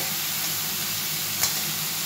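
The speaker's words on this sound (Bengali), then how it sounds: "আমি এটা একটু ভেজে নিই, ভালো করে ভেজে নিই" Cauliflower fries in hot oil in a pan, giving a steady close sizzle and crackle with one brief stirring scrape near the end.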